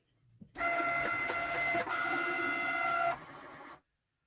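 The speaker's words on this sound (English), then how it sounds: "I'm going to feed it into the Cricut" A Cricut cutting machine pulls in a mat of pink cardstock with a steady close mechanical whir and hum lasting a few seconds, then stops abruptly into silence.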